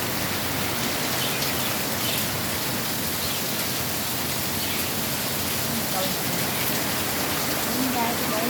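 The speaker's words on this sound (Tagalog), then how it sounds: "Grabe po ang lakas ng ulan." Dense, steady rain pours loudly and continuously, a broad hiss of heavy drops with no letup throughout.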